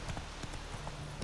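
A horse trots in the Witcher 3 video game, its hooves giving quick, faint clip-clop beats in a steady rhythm over a brief moment, with no talk.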